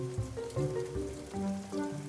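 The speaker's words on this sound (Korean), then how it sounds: "비가 많이 오네." Heavy rain pours down in a Korean animated cartoon, a steady wash of falling water mixed with soft tonal background sound, with no talking.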